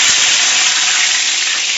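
Cut potatoes frying in hot oil make a loud, dense, steady hiss and crackle up close, with no other sounds over it.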